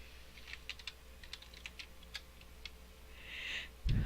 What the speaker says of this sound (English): I'm gonna just try typing in freedom over here.